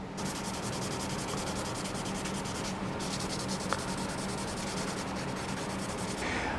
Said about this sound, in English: as I'm sanding the nut, I want to stay away from the front and back sides